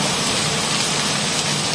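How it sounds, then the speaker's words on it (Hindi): Heavy rain pours down steadily in a dense, constant hiss, with no voices. "बारिश बहुत तेज हो रही है।"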